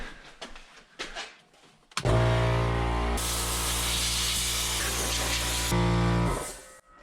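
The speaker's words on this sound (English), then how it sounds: "turn the compressor on." An air compressor blows a loud, steady hiss of compressed air over a bare PC chassis for about four seconds, after some quieter handling noises. The blast cuts off abruptly near the end.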